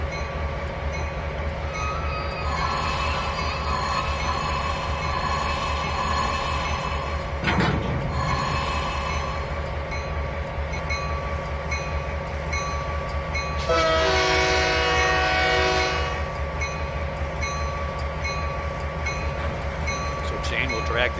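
A train in the Trainz 2019 simulator slows to couple onto a cut of unloaded hoppers at the docks: steady diesel rumble with squealing, whistling tones, a clank midway and a horn-like blast later.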